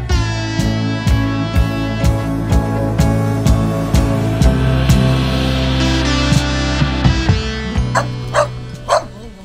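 A dog on a street in a brutalist housing district of Belgrade, Serbia, barks and yips repeatedly in steady bursts, loud and close, with whining tones running underneath throughout.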